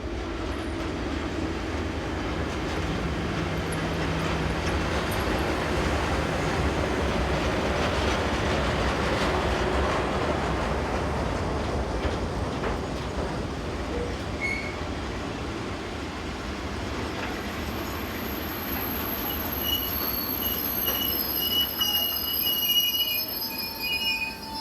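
Swiss Re 6/6 electric locomotive hauling a train on the BLS route toward Brig near the Lötschberg Tunnel, a long continuous rumble of rolling wagons with wheel squeal rising toward the end, heard alone without voices.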